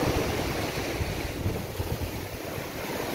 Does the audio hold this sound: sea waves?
yes